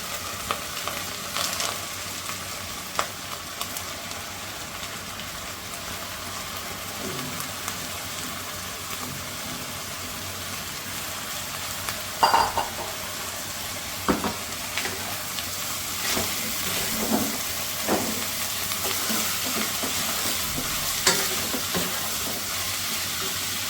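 Onions and ginger-garlic paste fry for khichuri in a pan, giving a steady sizzling hiss throughout, with occasional scrapes and clinks as the mixture is stirred, and no voices.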